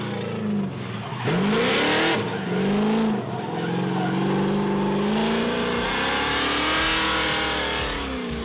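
An 800 hp Nissan 350Z drift car revs hard with tires skidding and squealing, its engine note rising and falling across repeated loud, close bursts.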